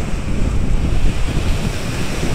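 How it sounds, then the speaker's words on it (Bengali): Loud sea waves roar and crash steadily on the beach at Mousuni Island, with a constant surf rumble mixed with heavy wind buffeting the microphone. "প্রচুর ঢেউ হচ্ছে সমুদ্রের গর্জন এখান থেকে শোনা যাচ্ছে"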